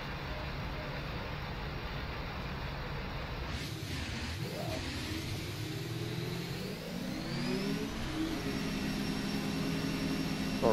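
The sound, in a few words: race car engine in video game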